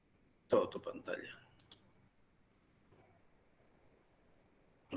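A computer mouse clicks during an online medical class, with a quick cluster of sharp clicks near the start, a couple more isolated clicks, then quiet with soft background murmur and another click at the end; a voice speaks briefly.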